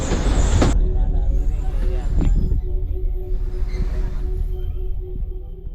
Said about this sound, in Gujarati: એવું લાગી રહ્યું છે જેમાં ઘાસની ઉપરથી ચાલતી હોય એવું ટ્રેન તમને લાગશે.